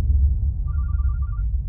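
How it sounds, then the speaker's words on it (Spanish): A mobile phone rings with a short repeating electronic trill partway through, a rapid pulsed tone sitting over low room rumble, fairly faint and brief. "¿Es su celular? Viene como de aquí."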